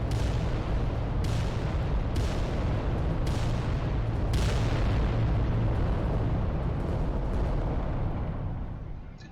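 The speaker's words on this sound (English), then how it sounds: "Bane Lord is shooting at my Warlord" Titan weapons firing in the Adeptus Titanicus video game, a dense continuous roar of heavy booming blasts, with several sharp explosive bursts at roughly one-second intervals, loud throughout before easing slightly at the end.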